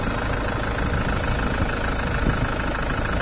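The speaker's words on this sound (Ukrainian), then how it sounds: "Так, моторчик працює дуже добре." A 2011 Citroen C-Crosser engine idling, a steady, even mechanical hum with a faint knocking texture, heard close and continuous with no voices.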